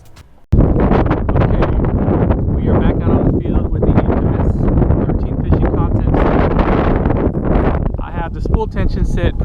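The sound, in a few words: wind blowing outdoors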